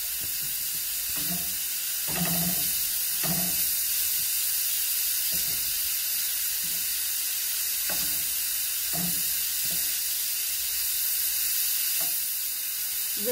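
Carrot sizzles steadily while sautéing in a pan, a soft continuous hiss with intermittent clinks and scrapes of stirring, heard close and alone without speech.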